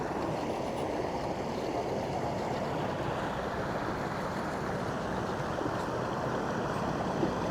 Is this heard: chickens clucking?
no